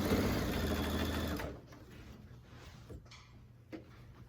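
A domestic sewing machine stitches quilt fabric for an alphabet panel quilt top in a steady, fast, close run that stops abruptly partway through, leaving quiet room tone with a few faint handling clicks.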